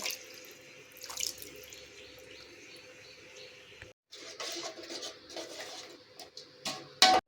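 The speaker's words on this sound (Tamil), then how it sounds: "நான் மிக்சி ஜாரை கழுவி இதில் சேர்க்குறேன்" Water from a rinsed mixer jar pours into egg gravy in a kitchen, a soft running trickle with splashes and a brief clatter near the end, close and moderately quiet.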